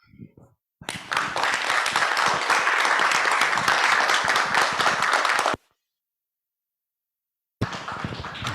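An audience at a conference session on youth politics and basic income breaks into dense, sustained applause for several seconds, stops abruptly into silence, then starts clapping again near the end.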